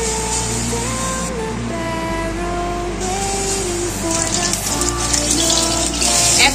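Chicken pieces dipped in batter fry in mustard oil in a wok, giving a steady, close, dense sizzle that holds throughout, with soft background music underneath.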